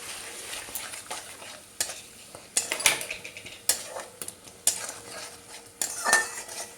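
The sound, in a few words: stirring and frying spice paste in a pan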